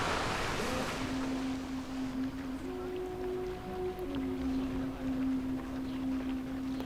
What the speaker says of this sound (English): the new waterfall that was put in place. Just a really nice view just before they drop and get soaking wet.